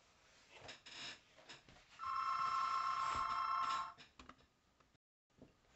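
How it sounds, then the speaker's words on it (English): A telephone rings in a room during a pizza eating session, a steady electronic trill lasting about two seconds at moderate loudness, with quiet rustling before and after. "that was just a phone"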